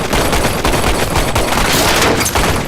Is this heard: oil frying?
no